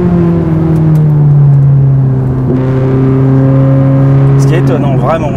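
A Ferrari 458 Italia's engine holds a steady, loud drone near 4500-5000 rpm, then rises in pitch with a climbing rev toward the end, close and continuous while a voice speaks over it.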